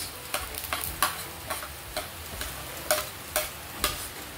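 Carrots get stirred into a pot of macaroni soup, a spoon scraping and clinking against the pot in regular strokes, with a soft bubbling simmer underneath and no voices.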